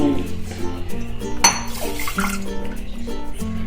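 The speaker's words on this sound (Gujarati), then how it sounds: "દોઢ વાટકી આપણે પાણી ઉમેરશું ખાંડ" Water pours into a bowl of sugar for gulab jamun syrup with a splashing rush, a few clinks of a metal vessel around it, close and fairly loud.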